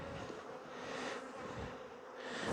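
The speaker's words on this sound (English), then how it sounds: "Just like to get the bees out of the way so I don't mash them." Bees buzzing around an opened hive, a dense continuous hum of many insects close by, swelling and fading slightly, with no talking.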